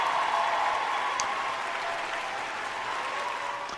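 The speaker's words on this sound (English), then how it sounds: "I'm going to give you a round of applause for that one there" A round of applause plays loud and continuous, a thick, even roar of clapping that runs the whole length without any voices.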